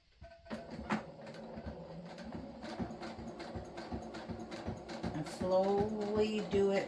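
A sewing machine stitching corner to corner across a microwavable bowl cozy with batting, giving a close, rapid mechanical rattle that runs continuously and grows slightly louder toward the end.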